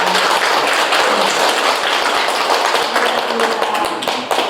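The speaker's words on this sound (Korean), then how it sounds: "큰 박수 보내주시기 바랍니다." Sustained, loud audience applause at a Buddhist university lecture in a temple hall, dense clapping filling the whole stretch without voices on top.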